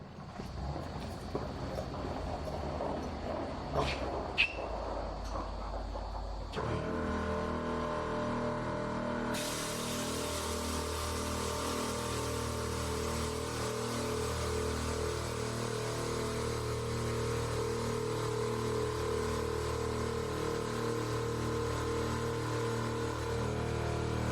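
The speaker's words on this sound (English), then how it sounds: "I'm going to turn the compressors on" Vixen Air 200 PSI air compressors kick on after a brief quiet stretch and run continuously, a loud, steady mechanical hum with a rapid pulsing throb that holds evenly to the end, no voices.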